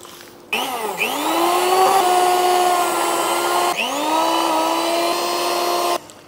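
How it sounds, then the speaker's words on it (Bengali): Electric hand beater whirring steadily as it mixes toast biscuit batter with milk and baking powder, running loud and continuous after a brief start and a short dip near the middle, with no talk. "এবার একটি বিটার দিয়ে সবগুলো মিশিয়ে নিচ্ছি।"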